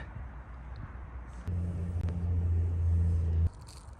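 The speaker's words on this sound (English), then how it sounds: "I wanted to get away from the highway before I started talking, otherwise you just hear car noise" Traffic on a nearby highway beside the Appalachian Trail's Roller Coaster section: a low rumbling vehicle passes for a couple of seconds, louder mid-clip, over a quieter ongoing road drone.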